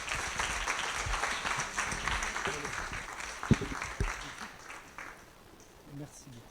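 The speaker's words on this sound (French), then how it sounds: "On les applaudit." Applause from the audience at a student challenge final, a fairly faint, dense wash of clapping that fades toward the end while a few voices speak over it.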